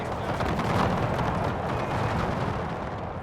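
Howitzer fire in a Franco-Prussian War strategy video game, heard as a heavy rumbling cannon boom with a long rolling tail of battle noise that slowly fades, loud and continuous across the stretch.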